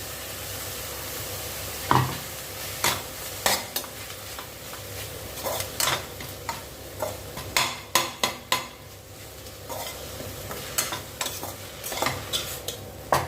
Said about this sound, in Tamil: இப்போ பார்த்தீங்கன்னா அரைச்ச விழுத சேர்த்துக்கலாம்.